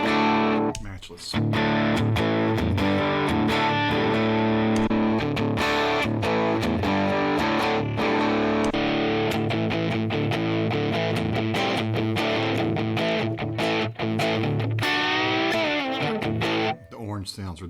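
An electric guitar runs through a Matchless amp model on a Line 6 Helix, playing distorted chords and riffs continuously and loudly with no talking.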